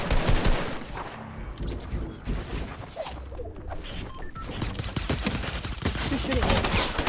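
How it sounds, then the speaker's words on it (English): Rapid gunfire in a video game rings out in loud, dense bursts and cracks, with a brief lull in the middle before the shooting picks up again. "Who's shooting me?"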